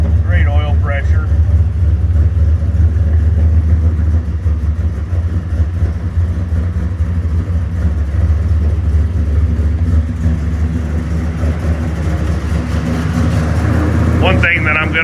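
A Chevelle engine fitted with a Holley carburetor runs steadily, a loud, low, rumbling idle that carries through the whole stretch, with someone talking briefly at the start and end.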